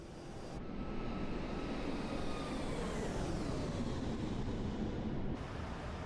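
WestJet Boeing 737 descending toward Calgary in a flight simulator, a steady broad roar of jet engine and airflow with slowly shifting whining tones, continuous and fairly loud with no talk.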